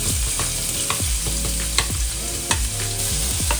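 Minced garlic fries in olive oil over medium-low heat in a pan, a steady sizzle broken by scraping and tapping as a utensil stirs it, with no talking.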